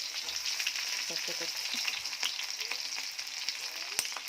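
Coconut, onion and curry leaves frying in an oiled pan, giving a steady bright sizzle with faint stirring clicks throughout, no voices.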